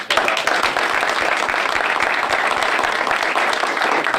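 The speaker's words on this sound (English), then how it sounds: "if we can give him a round of applause" Sustained audience applause at a swearing-in ceremony, with dense steady clapping from many hands, loud and close, running throughout with no break.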